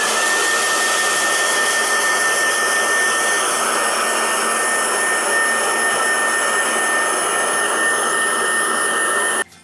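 Hair dryer blowing continuously on freshly painted wood of a coat rack, a loud, steady whooshing hum with a faint whine held unbroken for nearly ten seconds, then cutting off.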